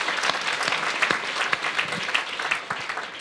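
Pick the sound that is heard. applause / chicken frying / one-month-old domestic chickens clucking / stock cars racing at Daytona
applause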